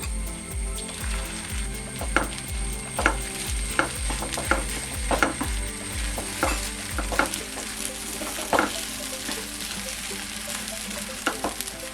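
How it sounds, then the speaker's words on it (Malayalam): Egg added to green gram frying with black pepper on a low flame; a steady close sizzle runs throughout, with scraping stirring strokes and faint clicking, and no talking. "ഇതിലോട്ട് നമ്മൾ നേരത്തെ തയ്യാറാക്കി മാറ്റി വെച്ചിരുന്ന മുട്ട ചേർത്ത് കൊടുക്കാം"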